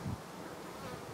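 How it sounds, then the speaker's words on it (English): Bees crowd a full topbar hive in early spring, their buzzing a thick, continuous hum heard up close with no talk over it. "There's just simply too many bees."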